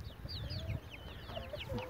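A hen clucks softly while her frightened chick peeps in high thin calls, a few close overlapping sounds from a family of chicks about six weeks old.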